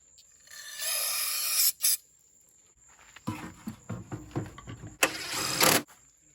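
A cheap lawn mower engine is pull-started: two rough bursts of cranking early on, then a run of short choppy sputters, and a final loud burst near the end, with no sustained running.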